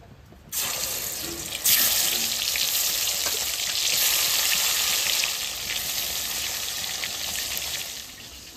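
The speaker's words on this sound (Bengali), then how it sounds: "এই বেরেস্তার তেলটা এর মধ্যে আমরা মাছটা ভেজে নেব" Shankar fish sizzles loudly as it drops into hot fried-onion (beresta) oil, a sudden hiss that holds as a close, steady crackle.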